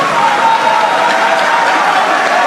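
Audience applause fills a political meeting of the Union sacrée de la nation: dense, steady clapping from a large crowd, loud and unbroken throughout, with no clear voices over it.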